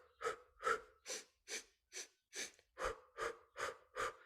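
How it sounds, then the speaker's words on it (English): Deep breathing exercise: about ten quick, forceful, evenly spaced breaths, sharp and close, with a gasping, snorting edge to each one and no talking. "It's literally to breathe."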